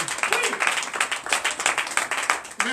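Church congregation applauding at a Sunday service in Benin, a dense, close burst of clapping with a few voices calling out over it.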